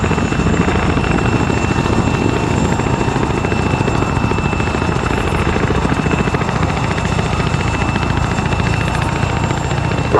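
A Chinook helicopter in the video game Arma 3 gives off a steady, loud rotor and engine drone that runs unbroken throughout, with no talking over it.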